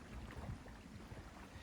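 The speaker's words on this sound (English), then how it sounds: "It's really windy" Wind gusting along a lake shoreline in remote Canadian wilderness, a steady low rumbling buffet of microphone wind noise with brief stronger gusts throughout.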